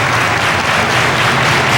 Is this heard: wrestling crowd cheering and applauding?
yes